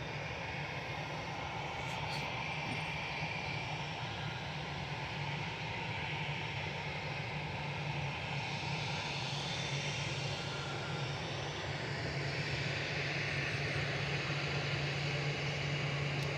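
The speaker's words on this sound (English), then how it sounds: "Ryanair from Alicante landing here, EIHMZ, 737 MAX 8200" A Ryanair Boeing 737 MAX 8200 jet lands at Manchester Airport, its engines giving a steady, broad roar with a low hum that holds evenly and swells slightly toward the end, with no voices over it.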